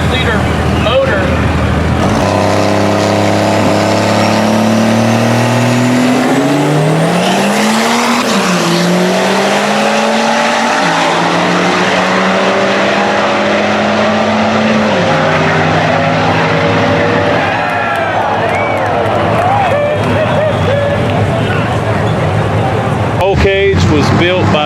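A 1300 hp Cummins-powered Ford F-250 diesel truck with a built 5-liter engine revs loudly, its deep roar rising in stepped surges before settling into a heavy, rumbling drone.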